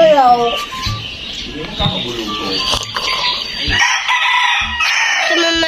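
Chickens crowing and clucking at close range, a rooster's crow standing out over busy farmyard fowl noise, with voices talking underneath.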